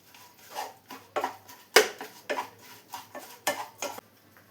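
Fried brinjal mixture is stirred in a metal pan, with a spoon scraping and clinking against the pan in a run of uneven strokes, close and moderately loud, with no talking.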